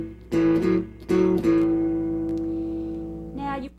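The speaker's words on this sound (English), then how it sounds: "2-string, very bassy sounding chords." An electric guitar plays low two-string shuffle chords, sounding several strummed chord hits in a loose rhythm, with one long ringing note left to sustain before a final chord, close and clear without speech.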